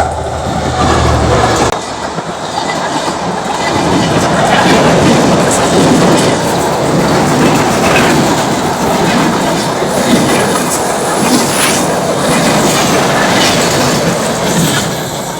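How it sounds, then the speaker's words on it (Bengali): A train rumbles past close by on the railway, loud continuous roar with clattering wheels on rail joints and faint metallic squeals throughout. "দেখি ট্রেন গাড়ি আসতেছে"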